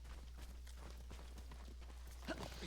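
A horse's hooves walk in the Ghost of Tsushima video game as a faint, steady clip-clop rhythm over a constant low hum, with one slightly louder thump near the end.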